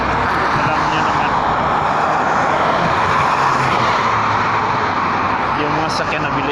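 Fast road traffic rushes past continuously, forming a loud, dense roar of passing vehicles that stays close throughout.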